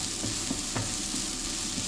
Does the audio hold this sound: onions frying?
yes